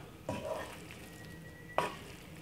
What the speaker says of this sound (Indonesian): Aduk sampai rata ya